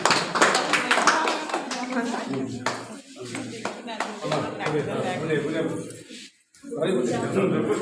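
Scattered hand clapping from people at a school birthday celebration, close and uneven, mixed with lively talking voices throughout.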